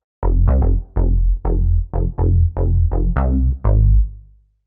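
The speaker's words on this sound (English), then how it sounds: "the first channel, I have this deep bass," A deep synth bass preset from Arturia OB-Xa V plays a run of about nine punchy, sustained notes in steady rhythm, loud and alone, with the last note ringing out.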